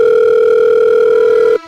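A telephone ringing tone while placing a call: a loud, steady electronic tone held continuously, then cutting off abruptly, with no voices.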